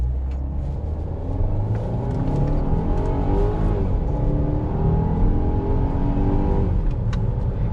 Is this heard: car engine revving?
yes